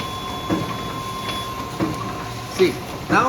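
A multitrack powder packing machine cuts sachet strips with a series of sharp mechanical clacks and thumps at irregular intervals over a steady machine hum, while someone talks nearby.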